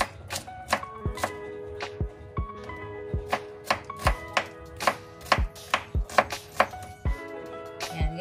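Onion and garlic being sliced on a cutting board: sharp, distinct knife strokes striking the board at an uneven, fairly quick pace, close and clear with little else in the background.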